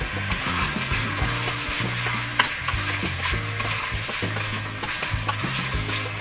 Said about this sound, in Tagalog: haluin po siya natin siya habang ginigisa